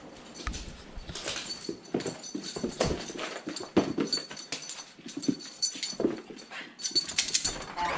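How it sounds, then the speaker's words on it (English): A dog wanting to be let outside whimpers and whines in short, restless bursts, mixed with scrabbling and clicking of paws nearby, in an indoor room; the sounds come in uneven clusters across the stretch. "My dog wants to go out."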